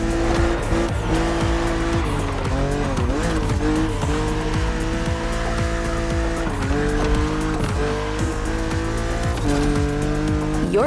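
A BMW Z4 E89 coupe cabriolet races in The Crew Motorfest, its engine note rising and dipping through gear changes, loud and continuous, with tires squealing through corners.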